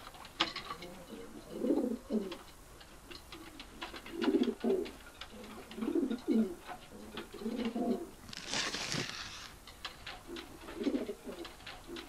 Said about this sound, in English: a small little black and white pigeon can come all that way